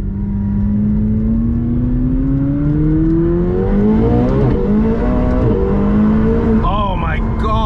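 An 850 hp supercar pulls hard under full throttle, its engine note climbing steadily, loud and close from inside the cabin. A sharp rise near the end sounds like a gear change. A voice reacts briefly over the engine.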